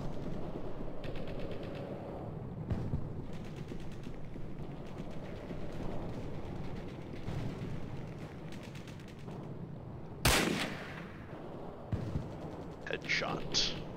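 Gunfire in the Hidden & Dangerous video game, a World War II squad shooter, with bursts of rattling shots under ongoing game ambience and a sharp louder report near the end followed by scattered bangs.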